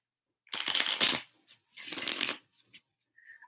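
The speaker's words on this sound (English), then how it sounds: "I'm just taking a minute to get grounded by shuffling my cards" A deck of tarot-style cards being shuffled by hand, two long riffling bursts in a quiet room followed by a few soft taps as the deck settles, close and clear.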